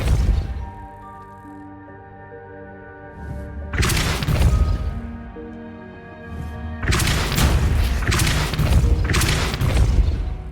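Depulso repelling spell impacts in Hogwarts Legacy during interior decorating: two loud booming blasts with crashing, shattering debris over a steady game music bed, the second impact longer with repeated thuds.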